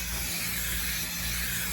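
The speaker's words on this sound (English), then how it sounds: "I take the can and I spray this first corner" A spray can of adhesive sprays onto quilt fabric in one steady, continuous hiss that lasts the whole moment, close and even, with no talk over it.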